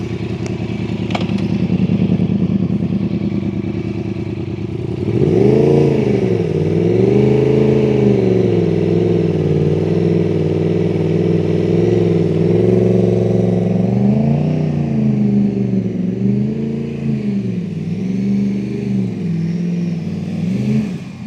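A Yamaha R1 motorcycle idles, then revs and pulls through a slow U-turn at a test centre, its engine note rising and falling loudly and close for the whole stretch.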